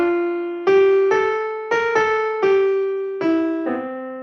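The Greensleeves melody in natural minor plays as a slow sequence of clear, sustained single notes on a keyboard-like instrument, each decaying before the next, with no voices.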